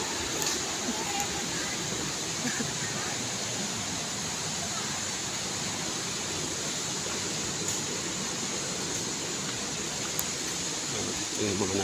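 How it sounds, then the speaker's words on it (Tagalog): Rushing water of Gaganu Falls in Diffun, Quirino, heard from a distance as a loud, continuous broadband roar that never lets up, with faint voices now and then. "Malayo pa pero rinig mo na yung lakas ng agos, oh. Yung dagundong ng tubig."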